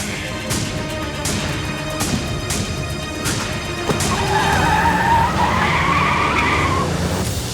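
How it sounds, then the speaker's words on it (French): A car revs hard and its tires squeal in a long skid that grows louder over the last few seconds, with dull engine rumble throughout and no voices. "Appuie sur l'accélérateur,"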